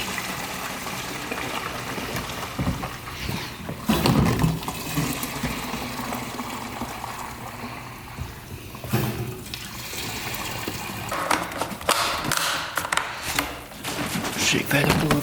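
Liquid glugging and gushing as a Polaris Ranger utility vehicle is filled with about half a gallon, a steady pouring wash broken by a few louder splashes, with some background noise alongside.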